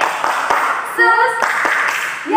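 Children at a Sunday school worship service in Pekanbaru clap along in sparse, sharp beats beneath singing and music, moderately close.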